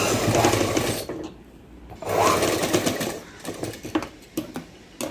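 A sewing machine stitches a gown for a baby girl, close and loud, running in two steady whirring bursts and then a few short stop-start runs.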